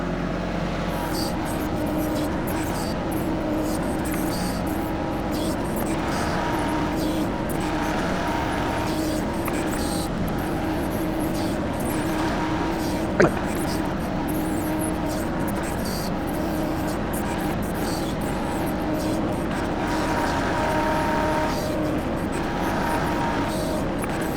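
A small cheap backhoe's engine runs at 1800 RPM while digging pond silt, a steady loud mechanical drone with constant rumble throughout and one brief sharp click partway through.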